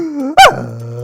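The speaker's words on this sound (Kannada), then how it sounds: "ಈ ಕಡೆಯಿಂದ ಗಂಡು ನಾಯಿ" A male dog gives a low rumbling growl, then one sharp loud bark close by. A steady low hum follows, and no one speaks.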